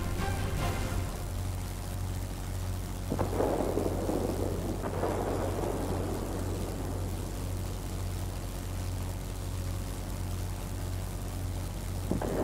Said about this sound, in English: There's a heavy storm here.